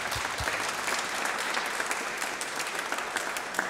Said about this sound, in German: Vielleicht können wir mal kurz einen Applaus geben für die Freiwilligen.